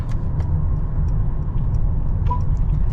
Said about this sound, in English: this video will give you a good idea of the noise, outside noise coming inside the cabin